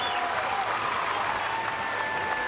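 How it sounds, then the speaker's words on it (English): A crowd at the 2010 CrossFit Games cheers and applauds steadily, a dense, continuous wash of clapping and shouting that stays loud throughout. "The crowd's going crazy."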